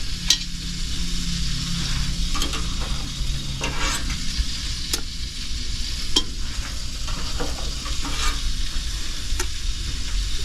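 Oversized Italian meatballs cook in a pot on low heat, with a steady sizzle and bubbling broken by sharp clicks and scrapes of stirring. No one speaks.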